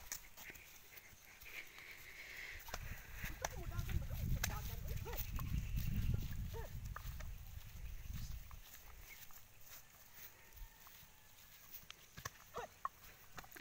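A horse moves around on a farm, with soft hoof thuds and a low rumbling stretch in the middle, while people talk nearby throughout.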